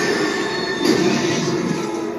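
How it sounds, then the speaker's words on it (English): A train rolls along rails in the Spider-Man 2 game on PS5. The loud, steady roar and rumble carries a high metallic squeal, swells briefly partway through and continues throughout, with no talk. "A train."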